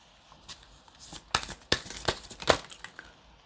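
Crisp riffling and snapping bursts of playing cards being shuffled close by, a few quick flurries separated by short pauses.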